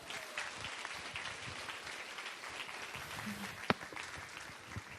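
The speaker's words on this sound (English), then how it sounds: "Give her a round of applause." An audience claps in steady, moderately close applause that holds at an even level throughout, with no voices standing out above it.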